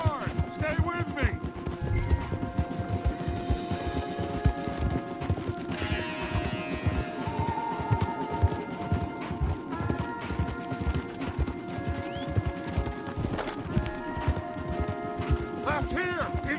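Horses gallop hard through the Red Dead Redemption II landscape, a fast, dense drumming of hooves that runs throughout alongside clattering gear, with occasional shouted dialogue and background game music over the rhythm.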